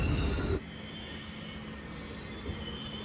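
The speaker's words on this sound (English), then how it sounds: "They got four DPUs pulling that train." A freight train with four distributed power units rolls past, a steady heavy rail rumble with a louder burst at the start before settling into a continuous drone.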